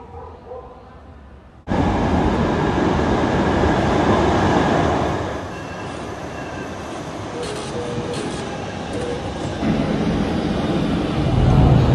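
A Barcelona metro train roars in loudly and keeps rumbling and rattling, with a brief dip partway before the noise swells again.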